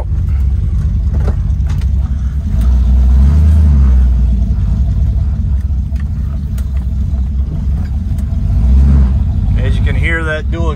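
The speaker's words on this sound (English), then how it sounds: "Hear that dual exhaust and that nice 289 V8. It sounds awesome." A cold-started 1968 Mercury Cougar XR7 with a 289 V8 and dual exhaust rumbles steadily and loudly up close, a deep continuous engine drone with slight swells in revving, as a person talks over it.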